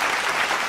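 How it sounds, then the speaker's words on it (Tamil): Audience applause at a Tamil pattimandram debate event: dense, steady clapping from a full crowd, loud and close for the whole short moment, with no voices over it. "நல்ல ஒரு கைத்தட்டல் தட்டி அவரை அன்போடு வரவேற்குமாறு அன்போடு கேட்டுக்கொள்கிறேன்"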